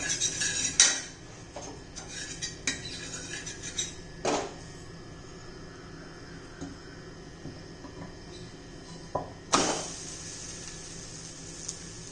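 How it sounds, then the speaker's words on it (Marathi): Metal utensils clatter and scrape against a hot tawa griddle as oil is spread on it while making bottle-gourd parathas, with sharp clinks scattered irregularly over a quiet background hiss. "तव्याला तेल लावू प्रथम"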